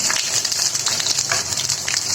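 Koi fish fry in oil in a pan and are turned over, giving a loud, continuous, bright sizzle with small crackles as the pieces are flipped.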